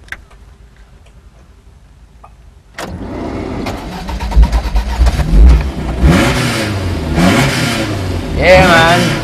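A sports car engine cranks to life after a quiet stretch, then settles into a loud, close idle broken by sharp throttle blips and quick revs. Voices talk over the engine near the end.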